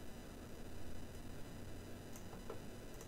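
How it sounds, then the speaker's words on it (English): A simple white noise sample in the Renoise tracker plays as a faint, even, continuous hiss, with a few small ticks. "And this is just very, very simple white noise."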